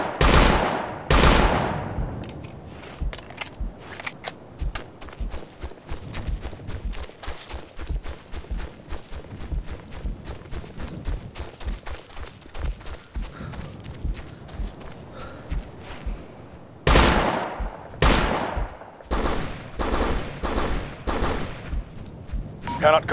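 Support machine gunner firing sustained bursts in the military shooter Operation Flashpoint: Dragon Rising, rapid dense gunfire filling most of the clip with louder, distinct shots near the start and end.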